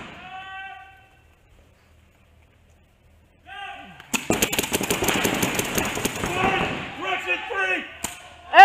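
Paintball markers firing in rapid bursts during a 4 vs 4 speedball league match, a dense crackle of shots close by with voices speaking before and around the volley.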